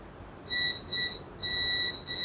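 A multimeter beeps in continuity mode while testing a coil on a mobile phone motherboard: steady high electronic tones, in three to four bursts of about half a second over a faint background hiss.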